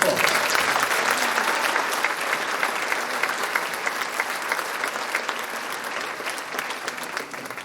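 Dense audience applause at a middle school moving-up ceremony, steady and sustained for several seconds, slowly tapering toward the end with no voices over it.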